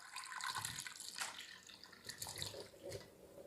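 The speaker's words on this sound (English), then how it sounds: "I'm simply going to put my green beans in, liquid and all" Canned green beans and their liquid are poured into a pot with a steady, soft splashing, watery pour that continues throughout without a break.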